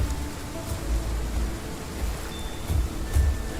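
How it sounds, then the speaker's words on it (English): Rain in the video game Path of Titans, a steady loud hiss of rainfall with low rumbling swells and a few brief louder bursts, no voices. "let me know, guys, if the rain is too loud"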